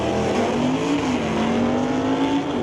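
A Mustang drag car launches at an NHRA drag race, its engine a loud continuous roar that climbs in pitch as it pulls away, with steady crowd and track noise behind it.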